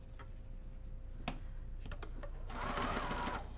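Domestic sewing machine stitching a quilt backing, a steady motorized whir with faint ticking, briefly spiking to a louder, denser burst of rapid stitching near the end as the pedal is pressed hard; no one speaks.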